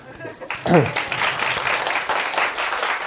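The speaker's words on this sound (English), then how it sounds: "And a little applause." Audience applause at a community science talk on global warming, breaking out after the first experiment; a dense patter of clapping rises suddenly and holds steady, with some talk mixed in at the start.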